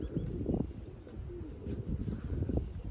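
Pigeons coo softly in repeated low, throaty calls, fairly close and steady over a faint background hum, with no talk.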